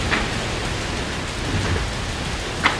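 Steady rain hisses across a racing sailboat at sea in an Atlantic race, a dense even wash of drops with a couple of brief louder spatters and no voices.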